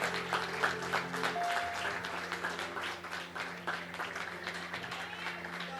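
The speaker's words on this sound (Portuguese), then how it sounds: "Pode aplaudir ao Senhor." A church congregation claps for the Lord during a Portuguese-language service, with sustained, even applause under a speaking voice and a held musical tone.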